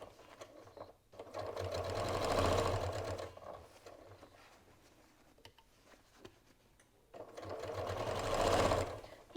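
A sewing machine set to a stitch length of 3 topstitches around a crazy-quilt Christmas stocking, a steady whirring hum that swells in two long runs with a quieter pause between, close and alone.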